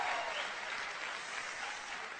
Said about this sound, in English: please give me a big loud round of applause.